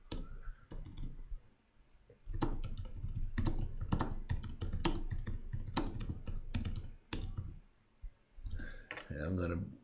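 Fast, crisp clicking of computer keyboard keys while a headline is typed, in uneven bursts with short pauses. Someone speaks over much of it.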